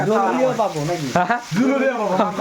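Meat and plenty of onion sizzle in a wok, a soft steady frying hiss that sits under close, continuous talking.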